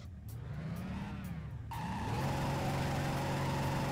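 A car engine in the video game Driver: Parallel Lines: a steady, loud, droning motor whose pitch dips and then climbs as the car accelerates, with a harsh buzzing tone, heard alone without talk.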